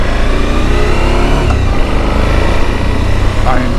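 A Suzuki V-Strom 1050XT adventure motorcycle is ridden, its engine a loud, continuous drone with steady rumble and slight rises in pitch, heard up close under wind noise for the whole stretch.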